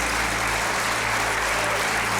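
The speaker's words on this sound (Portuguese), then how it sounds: "Vamos aplaudir ao Senhor." A church congregation at a fatherhood conference applauds for the Lord, a steady wash of clapping heard at a distance over a constant low hum.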